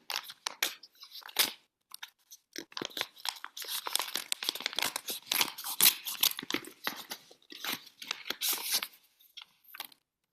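Paper crinkling and tearing as a small envelope is opened, a busy run of close, crisp rustles and rips with brief pauses, no talking.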